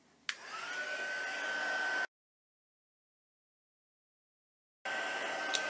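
Heat tool heat-setting stamped paper: a close, steady whirring hiss with a thin whine, running about two seconds, cut off by a gap of silence, then starting again.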